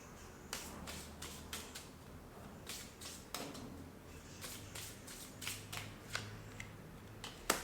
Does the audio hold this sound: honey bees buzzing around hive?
no